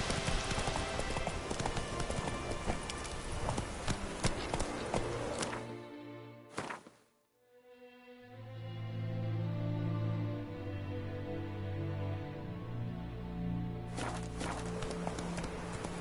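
Roach, a horse in The Witcher 3, gallops with quick, rhythmic hoofbeats that fade into a brief near-silent gap midway, then the hooves and a low rumble resume.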